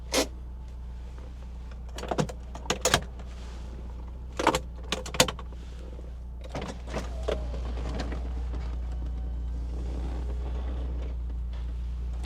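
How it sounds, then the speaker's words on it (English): The power soft top of a 2006 Honda S2000 convertible lowers while parked with the engine idling, giving several short motor whirs and clicks over a low, steady engine hum. "I have to be fully stopped with the handbrake up to put down the lid."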